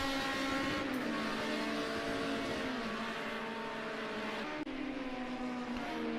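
1973 BMW 2002 race cars lap a track in Project Cars 2, a steady loud engine drone holding a high revving pitch with slight shifts, several cars blending together, no talk over it.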